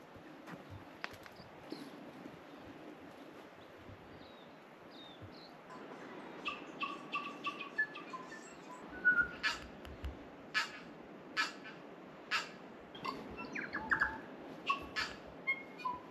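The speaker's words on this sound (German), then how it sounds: "Hört ihr die Vogelgeräusche?" Several birds call from a tree on a New Zealand beach, short sharp chirps repeating at irregular intervals over a steady outdoor background hum, moderately distant.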